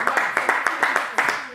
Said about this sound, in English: We can clap for the creative art.